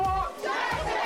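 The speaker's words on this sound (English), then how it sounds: "the clamoring outside Dalton Village Hall calmed" An angry crowd clamors outside Dalton Village Hall, a close, loud mass of shouting voices in rough overlapping bursts with a brief dip partway through.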